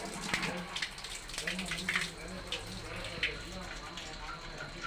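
Hot water streams steadily from a tap fed by a water heater, with a soft, continuous splashing hiss and occasional drips and clinks.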